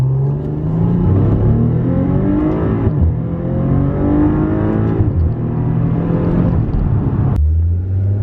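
A Maserati Quattroporte S Q4 accelerates hard in first gear, its engine rising loudly and steadily in pitch through repeated climbs before a sharp shift, close and alone with no talking.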